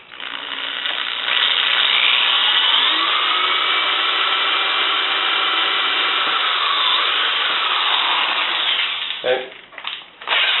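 Power drill boring into a wooden board while fixing parts of a mirror frame during restoration, a steady close whine lasting most of the stretch before slowing and stopping near the end.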